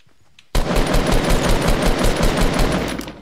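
A SCAR rifle in Fortnite opens fire after a brief quiet moment, loud rapid automatic bursts running continuously for about three seconds.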